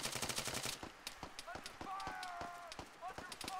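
Arma 3 gunfire in the video game: a rapid burst of automatic shots at the start, then scattered single cracks, with voices talking over the gunfire.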